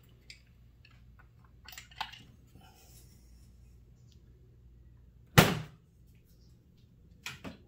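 A 3/8 inch socket snaps onto a ratchet in one sharp, close metallic click, with a few faint taps and rattles of tool handling before it and a smaller clack near the end.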